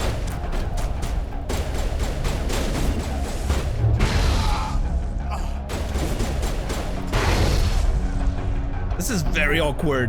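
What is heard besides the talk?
grenade explosions in Mass Effect video game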